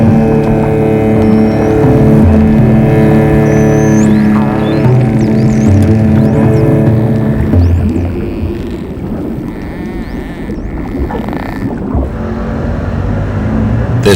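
Pleasure boats motoring near the port in Koombana Bay, a steady droning engine hum that stays loud for several seconds, then fades to a quieter, rougher rumble with water noise.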